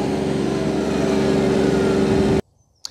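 An Iseki TLE 3410 compact tractor drives on the road, its engine a loud, steady drone that holds for a little over two seconds and then cuts off abruptly into near silence.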